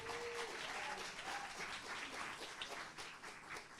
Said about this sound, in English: I have to give a huge round of applause to the lead mentor for Cohort 3, Brandon DeLesline.